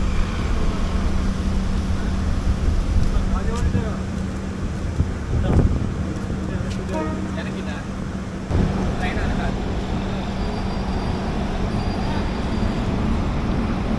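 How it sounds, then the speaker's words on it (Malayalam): A train rolls in on the opposite line toward platform 1 at an Indian railway station, heard from aboard a Mangalore–Kacheguda express: a steady rumbling wash of rail noise with wind buffeting and clanks, people talking over it. "ഏതോ ഒരു വാപ്സൺ ഹാളിൽ ട്രെയിൻ ഓപ്പോസിറ്റ് ലൈനിൽ കയറി വരുന്നുണ്ട് പ്ലാറ്റ്ഫോം നമ്പർ 1ലേക്ക്"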